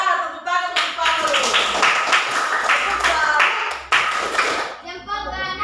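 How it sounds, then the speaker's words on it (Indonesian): A classroom group claps for a pupil during a Catholic religious education lesson, a burst of hand clapping mixed with a teacher's voice and children's voices. "Ya, tepuk tangan untuk Fano."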